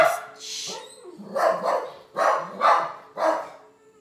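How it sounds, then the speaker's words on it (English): A dog barks repeatedly, close and loud, in a quick run of sharp barks with brief pauses between them. "he's just barking at this point"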